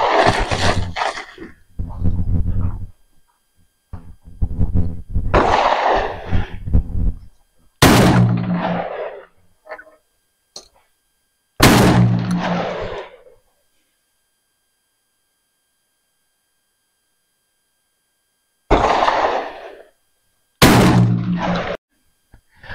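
Semi-automatic shotgun fired outdoors: a few sharp, loud reports spaced several seconds apart, each with a quick decay, following a stretch of rustling and handling noise.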